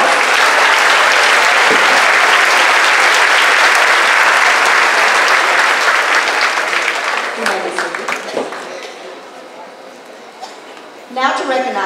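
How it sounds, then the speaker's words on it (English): Loud sustained applause from a graduation audience honoring graduating students at Peabody, steady for about seven seconds before thinning into scattered claps and fading, with a brief burst of voices near the end. "Let's give the students a round of applause."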